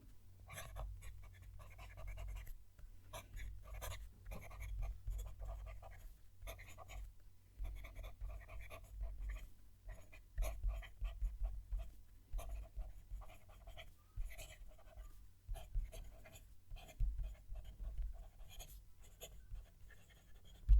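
A large Jinhao fountain pen nib scratches across paper close to the microphone, a soft, faint and steady scratching with short pauses between strokes.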